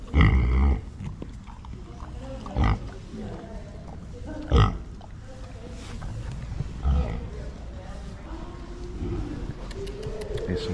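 A pig at Blackpool Zoo lets out several short, low grunts spaced a couple of seconds apart, close by, among soft background noise and occasional voices.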